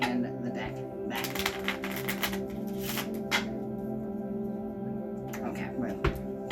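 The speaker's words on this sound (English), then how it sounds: "thank you for that speedy shuffling" A deck of playing cards being shuffled quickly during a magic trick, with bursts of riffling and crisp flutters close by, over a quiet background hum.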